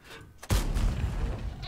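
A single heavy cannon blast from a Kampfpanzer 50 t tank in a tank video game, a sudden loud boom followed by a rumbling decay.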